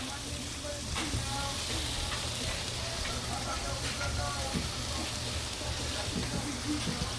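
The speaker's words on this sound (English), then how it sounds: "Let's stir our sauce over here." Vegetables and sauce sizzle steadily in a hot pan while being stirred, a dense continuous frying hiss with occasional soft scraping clicks, close and fairly loud throughout.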